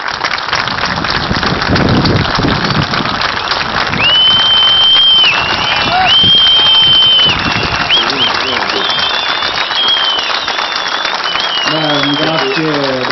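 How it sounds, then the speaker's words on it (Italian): An audience at a memorial event by the Mont Blanc Tunnel applauds warmly in tribute: sustained, dense clapping with occasional whistles and some voices mixed in. "Je vous propose de leur rendre l'hommage qu'ils méritent en les applaudissant chaleureusement"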